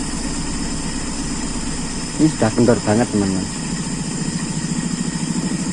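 An engine with an Aisan carburetor idles at a very low setting, its idle screw turned nearly shut; a steady low rumble with a faint pulsing tick, and someone talks briefly over it midway.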